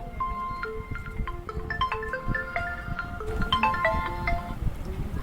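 A phone ringtone plays a bright, stepping electronic melody of short tonal notes, repeating steadily for several seconds at close range with no talk over it.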